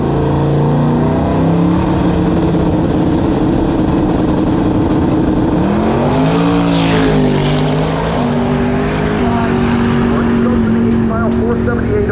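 A loud, roaring twin-turbo big-block drag car engine drones steadily at a drag strip, its pitch swooping up midway as it accelerates, with a voice talking over it.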